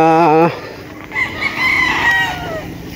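Chickens and gamecocks on a farm: a loud, close rooster crow opens, then lower clucking and a more distant crow follow over background hubbub.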